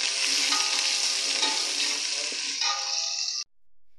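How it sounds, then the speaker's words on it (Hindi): Chopped onions, about two medium, sizzle steadily in hot ghee in a pot while being browned for chana dal, a dense continuous frying hiss that cuts off abruptly near the end. "प्याज को हल्का हल्का ब्राउन कर लूँगी"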